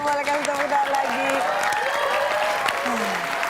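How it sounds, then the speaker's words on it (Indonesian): Studio audience applause on an Indonesian TV game show, a steady wash of clapping under a sustained musical tone, with a voice briefly audible near the end. "Oke, boleh kasih tepuk tangan lagi."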